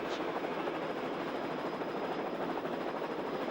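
Helicopter hovering above a motocross race, a steady broadband rotor and engine rumble with no distinct blade chop, constant and moderately distant throughout.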